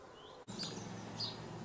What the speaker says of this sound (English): If you listen carefully behind me, you'll be able to hear the sounds of the birds.